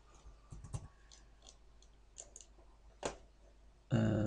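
Computer mouse clicks while working in Civil 3D design software: a few sharp, sparse clicks close to the microphone over faint background hiss, ending in a short burst of louder noise.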